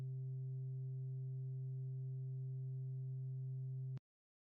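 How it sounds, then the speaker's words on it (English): A steady, smooth sine-wave tone hums at constant pitch and level for about four seconds, then cuts off abruptly into silence. "A sine wave sounds like it looks smooth and clean."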